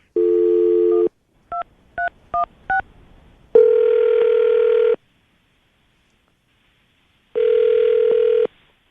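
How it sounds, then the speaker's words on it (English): A phone call being placed: a steady dial tone, then four quick touch-tone beeps as a number is dialed, followed by two long electronic ringback tones separated by a pause, clear and close with no voices. "We're going to call her right now, see if we can get her on the phone"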